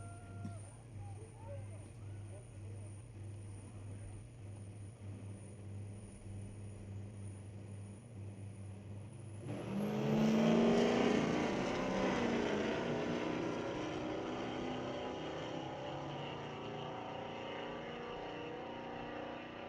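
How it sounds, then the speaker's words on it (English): A little diesel pickup truck at an NHRA Division 6 drag race start at Mission Raceway Park, its engine building boost into a loud rising roar that swells suddenly, then settles into a sustained drone under commentary. "Build and boost in that little diesel pickup"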